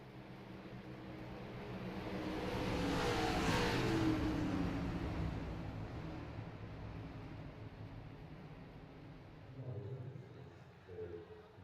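An iRacing video game race car engine roars up in a broad swell of revving, peaking early then settling into a steady drone, with a brief second surge near the end.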